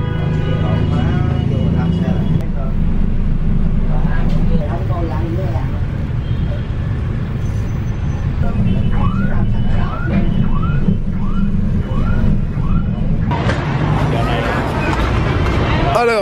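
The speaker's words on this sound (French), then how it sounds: "je viens d'arriver à la gare routière de Mien Tai" Busy ambience at Mien Tai bus station in Vietnam, with constant traffic rumble, engines and a babble of voices, horn-like tones in the middle and a louder hissing rush toward the end, someone talking over it.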